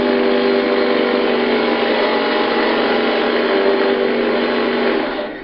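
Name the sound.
drill boring into rock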